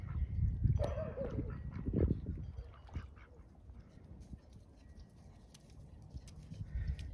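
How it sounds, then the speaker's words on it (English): Ducks quack and honk several times in a loose outdoor cluster, loudest early on, then trailing into quieter scattered calls over faint background noise. "Photobombed by the farm ducks."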